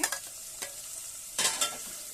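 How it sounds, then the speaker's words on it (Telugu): Cucumber, tomatoes, green chilies and brinjal fry lightly in a pan for drumstick dal soup, a quiet steady sizzle punctuated by several scrapes and clinks of stirring, no voices. "లైట్గా ఫ్రై అవుతున్నాయి చూడండి"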